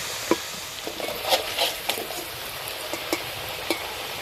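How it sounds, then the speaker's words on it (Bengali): Potatoes frying in hot oil in a pan for a Bengali dhokar dalna, a steady close sizzle broken by occasional sharp stirring scrapes and clinks. "আলুগুলো লাল লাল করে ভেজে নিয়েছি"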